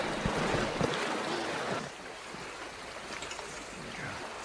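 A small forest stream flows through jungle, giving a steady, close rushing and gurgling of water that eases slightly partway through, with no voices.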